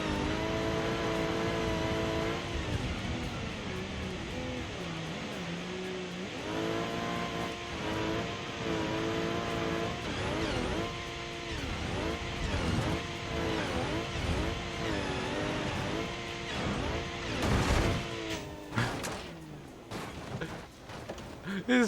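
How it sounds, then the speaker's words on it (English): A turbocharged car with a loud, sustained turbo whoosh and a jet-like whine over engine revving, rising and falling for about twenty seconds, close and continuous, with a burst of harsher noise near the end. "Listen to that freaking turbocharger. It sounds like a jet engine."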